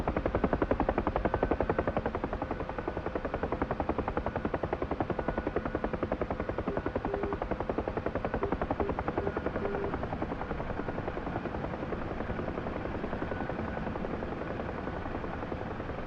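A UH-1 Huey helicopter sets down for a landing in the DCS flight simulator, its steady, loud rotor thump and turbine whine running continuously and close throughout.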